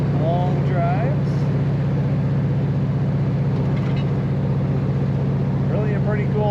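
A 1948 Ford Super Deluxe classic hot rod with a steady low engine rumble at idle, continuous and close, while someone talks over it.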